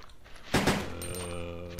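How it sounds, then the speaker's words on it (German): Gunfire in Resident Evil 2 as Leon fights a zombie that keeps getting back up: a loud double burst of shots near the middle, then a ringing tonal tail, over a low game background. "Man kann auch zwei Schüsse abgeben, ne?"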